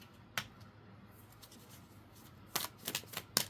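A tarot deck being shuffled close by, a single riffle at first, then a quick burst of crisp flicks and slaps near the end, with no talking.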